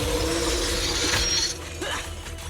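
An ice-shattering attack in Zenless Zone Zero lands with a loud, bright crash of breaking ice and glassy crackles and tinkles that quickly trail off.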